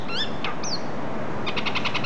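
Birds squabbling in a brief, agitated exchange: a few sharp chirps and a swooping call, then a fast run of rapid repeated notes over steady outdoor background noise.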